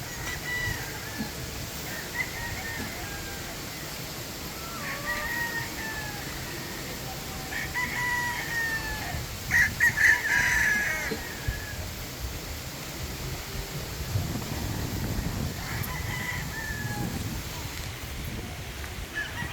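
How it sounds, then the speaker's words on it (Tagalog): Chickens and roosters at a Filipino poultry yard: several cocks crow in overlapping bursts and hens cluck steadily throughout, with a louder crow midway and a constant background bustle. "Bilangin nyo kung ilan lang yung manok."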